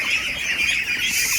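Ducks herded into their house at evening give a continuous chorus of nasal quacks and bird chatter, fairly close and steady, with no talk over it.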